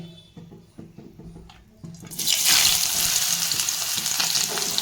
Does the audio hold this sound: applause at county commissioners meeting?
no